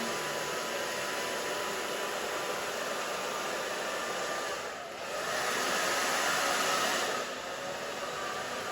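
A hair dryer blows steadily on short curly hair during a pixie cut, a loud, close, continuous rush of air that dips briefly once and then swells a little louder, with no talking.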